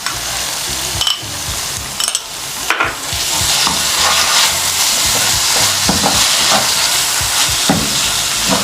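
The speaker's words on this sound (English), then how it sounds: "we're gonna add in some tomato sauce and let that cook for just 5 minutes" Potato mince with tomato sauce, salt, black pepper and garlic sizzles loudly in a pan, a spatula scraping and stirring repeatedly over the continuous frying hiss, close up with no talking.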